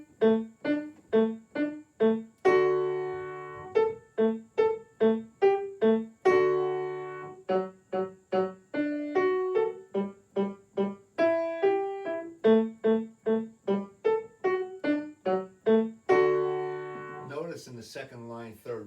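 Piano staccato exercise in D, with many short, detached notes and chords in a steady rhythm, a few held for several beats, played close and clear with no talking.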